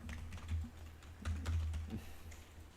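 Fingers type a line of text on a computer keyboard in a quiet room. Short clusters of soft, close key clicks come with brief pauses between them, and no voice is heard.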